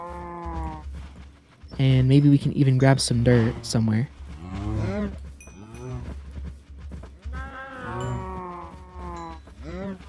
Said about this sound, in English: We can definitely breed these cows a little bit more.